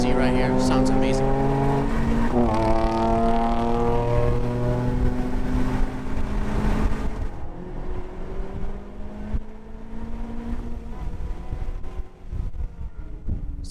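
Honda Civic Type R FK8 driving hard on the Pocono race track, a loud close engine drone rising in pitch through the gears, then easing off as another car's engine is heard passing.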